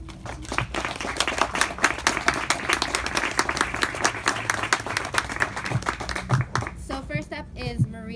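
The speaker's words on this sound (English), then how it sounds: "So please give them your warm applause" An audience at a poetry reading applauds the writers with dense, continuous hand clapping that goes on for several seconds. A voice starts speaking over the tail end.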